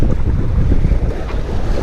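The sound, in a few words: strong wind blowing outdoors while fishing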